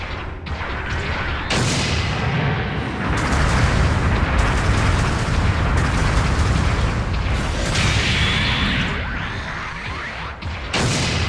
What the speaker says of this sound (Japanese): 後方部隊からの支援砲撃が来ます